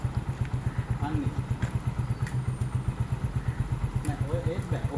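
A motorcycle engine idles nearby with a steady, rapid thumping pulse throughout, while people talk over it.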